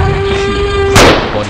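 A single loud gunshot from the mobile hunting game Mission Animal Hunter 2021 cracks out near the middle, a sharp broadband burst that decays over a fraction of a second above a steady electronic tone and low game ambience.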